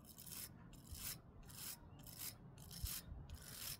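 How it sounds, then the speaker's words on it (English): Bristle brush scrubbing corrosion off the electrical seat release button of a Vespa GTS scooter: quiet, close, rhythmic rasping strokes, about eight back-and-forth passes at a steady pace. "I'm going to try to remove some of the corrosion with the bristle brush."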